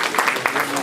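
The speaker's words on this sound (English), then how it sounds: "Now is when I will ask for another round of applause for Chief Olusegun Obasanjo." Audience applause for Chief Olusegun Obasanjo, a former Nigerian president, at a speaking event: a brief burst of dense, steady clapping from a crowd, with voices mixed in.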